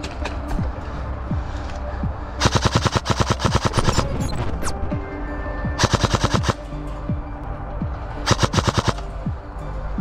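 An airsoft gun fires three rapid full-auto bursts during a game, each a crisp chattering string of close shots. Fainter distant pops and clatter sound between the bursts.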